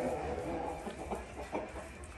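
Brahma Grande Race hen clucking in a breeding pen just after laying, a few short clucks over steady farmyard background noise with faint voices nearby.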